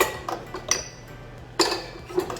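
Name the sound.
stirring vegan blueberry muffin batter with a wooden spoon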